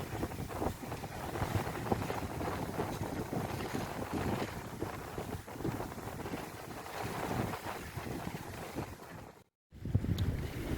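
A sailing yacht under full sail cruising the English coast near Teignmouth, with steady rushing wind noise and water wash continuing throughout, one brief dropout near the end, and no voices.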